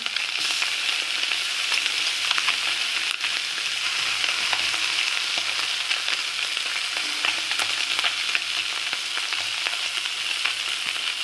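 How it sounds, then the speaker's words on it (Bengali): Continuous close sizzle and crackle of small mourola fish frying in hot oil, with occasional soft pops and scrapes, no voices. "উল্টে পাল্টে ভেজে নেব।"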